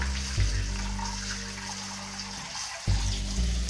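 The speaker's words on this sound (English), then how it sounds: "add a little water to dilute it a bit." Water, about a cup, poured into a pan of chicken sauce to thin it, heard as a continuous rushing splash under a low background hum.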